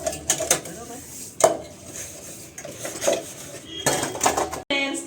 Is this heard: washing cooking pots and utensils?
yes